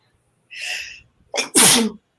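A single close, loud sneeze: a short sharp intake followed by an explosive burst, with no talking.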